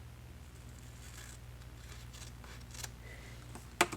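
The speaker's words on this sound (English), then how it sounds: "I'll cut this one off" Scissors cut a piece of paper off while working on a junk journal, giving a brief crisp snip near the end over a low steady hum and faint rustling.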